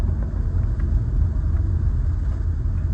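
A 2007 Acura RL engine idles after a transmission service, giving a steady low rumble that is close and continuous with no talk over it.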